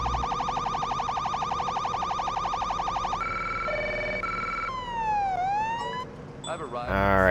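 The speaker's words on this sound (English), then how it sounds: "just driving lights and sirens is a lot of fun" A police car siren from the Police Simulator: Patrol Officers video game wails and yelps in rapidly shifting tones, loud and continuous, switching patterns midway before a short burst of engine noise at the end.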